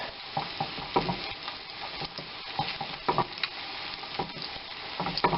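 Sole fillet fries in a pan for sole meunière, a steady close sizzle broken by frequent soft spatula taps and scrapes at an irregular pace, with no talking.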